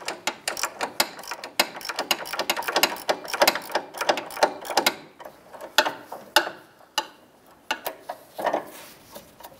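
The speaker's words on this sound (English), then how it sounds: "Using a 15mm wrench, we're going to go ahead and loosen the nut" A 15mm wrench works the nut on a sway bar end link of a 2011-2019 Ford Fiesta, giving a string of sharp, close mechanical clicks and ratcheting taps in irregular bursts with brief pauses.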